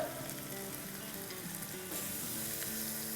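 Crushed garlic, a tablespoonful, dropped into the small amount of oil released in a pan while cooking a Chinese-style chicken dish, sizzling steadily and close up under light background music, with no one speaking.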